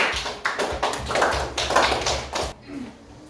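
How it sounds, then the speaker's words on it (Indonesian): A class claps for a student group in a quick rhythmic pattern of short bursts, close by, ending abruptly in near quiet. "tepuk tangan buat kelompok 1"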